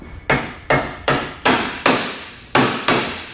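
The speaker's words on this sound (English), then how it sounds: "and then we'll hammer this up." A stud is hammered while a Roadmaster Direct-Connect base plate is installed on a 2017 Jeep, seven sharp, ringing metallic strikes at a steady, slightly uneven pace, close and loud with no talking.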